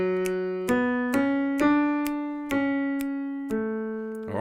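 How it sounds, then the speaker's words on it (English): Piano plays a sustained vocal line from a choral work, Mendelssohn's Elijah: a slow phrase of about eight distinct notes, each attack clear and steady, played alone with no voices. "Listen to that just on the piano."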